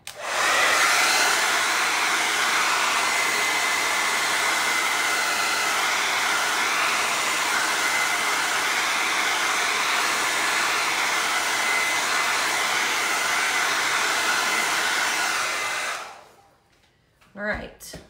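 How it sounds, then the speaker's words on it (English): A blow dryer runs steadily and loudly for about fifteen seconds, drying a glass and resin art piece of flowered rainboots, then shuts off, leaving a brief quiet with a small clatter at the end. "So I'm gonna hit this for 10 seconds with the blow dryer, and it's gonna be kind of loud"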